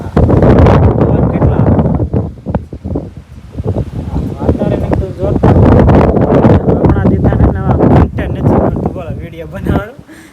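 Strong wind blowing outside a house on a sunny day, buffeting the microphone in loud, uneven gusts that rise and fall, with rustling and a voice talking over it.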